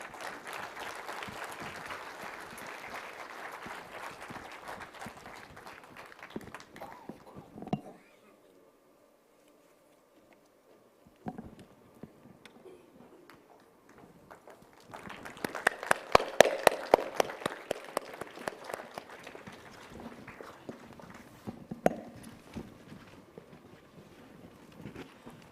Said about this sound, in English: please welcome them with your applause